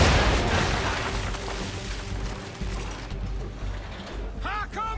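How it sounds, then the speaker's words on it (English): Naval cannon broadside from Assassin's Creed 3 opens loud and rumbling, then decays into a long roll of booms and wooden creaks, with shouted voices near the end. "Round shot, sir! Fire broadside!"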